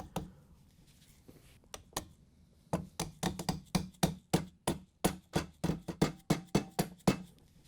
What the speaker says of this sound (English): Then we can carefully tap it on with a rubber mallet.